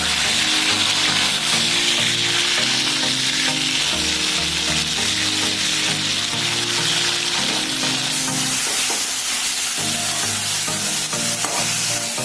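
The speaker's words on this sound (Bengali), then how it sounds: "একদম তেলের মধ্যে দিয়ে দেবো। নেড়ে দেবো, নেড়ে দেওয়ার পরেই দেবো চিকেনটা" Chicken sizzles and fries in hot oil with garlic paste while being stirred, a loud steady crackle with scraping of the spoon throughout and a brief dip in the sizzle near the end.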